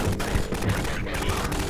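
Gunfire from a Half-Life 2: Episode Two single-player mod, heavy weapons rattling in quick irregular bursts, muffled and fairly quiet within a busy, noisy combat mix against Combine soldiers.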